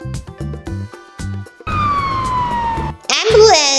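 An ambulance siren wails with a falling tone, followed by a rapid higher warble, mixed with short voiced bursts before it.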